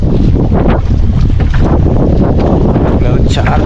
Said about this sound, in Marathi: वारा पण बघू शकता जाम वारा आहे